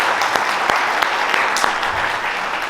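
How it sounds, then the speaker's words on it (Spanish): An audience at a direct-sales industry talk breaks into applause, a short burst of brisk clapping from many hands with a few sharper claps standing out, fairly close and loud. "Un aplauso para nuestra industria"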